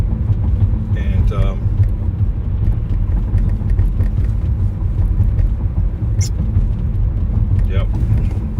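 Steady road rumble and engine hum from a car driving around Madison Heights, Michigan, heard from inside the cabin, with someone talking intermittently over the constant low drone.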